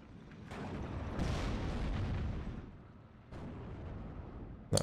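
A tank gun firing in the WWII strategy game Steel Division: Normandy 44, a Panzer IV against a Cromwell IV, gives deep, rumbling booms that roll on in a continuous battle din, with a sharp crack at the very end.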